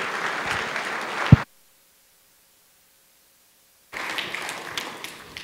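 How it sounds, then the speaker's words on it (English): An audience applauding a speaker at a community talk series, a burst of dense clapping that cuts off abruptly into silence, then resumes as steady applause. "So I'd like you to put a good round of applause together for my friend"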